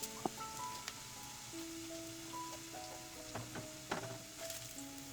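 Ginger and garlic fry gently in oil for a Kerala fish curry, a faint soft sizzle with scattered pops and light clinks of a stirring utensil, quiet and close.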